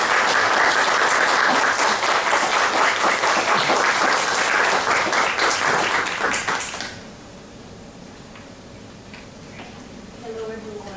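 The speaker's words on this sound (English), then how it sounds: "Please welcome Marcia Douglas." An audience claps loud and steady to welcome a poet and college professor to a reading, a dense wash of applause lasting about seven seconds before cutting off to quiet room murmur.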